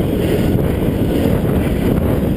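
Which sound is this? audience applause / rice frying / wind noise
wind noise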